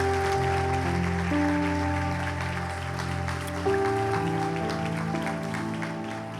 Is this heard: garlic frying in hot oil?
no